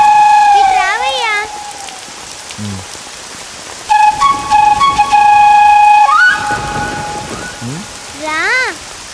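Steady rain falls in a film scene, a soft continuous hiss through the whole stretch, overlaid by bright, wavering whistle-like tones that come and go.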